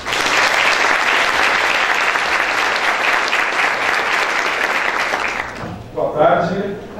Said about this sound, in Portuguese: Vamos dar uma salva de palmas para o professor Romero Tori.